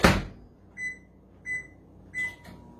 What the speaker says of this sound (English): we'll pop this in the microwave